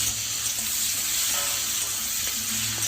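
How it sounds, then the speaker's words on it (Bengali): Chopped onions fry in hot oil in a pan, a steady, close sizzle that stays even throughout, with a few faint scrapes and clicks underneath and no talking. "পেঁয়াজগুলোকে হালকা ব্রাউন কালার হয়ে আসা অবধি ভেজে নিতে হবে।"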